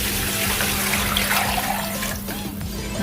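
Water poured steadily into a pot of rice, about eight glasses for four of rice, for khichdi; a continuous close splashing trickle with no speech.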